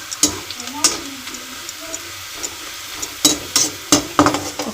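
Cumin seeds and dried chilies crackle and sizzle in hot oil for a tempering, with sharp intermittent pops and spatters over a low frying hiss, close by.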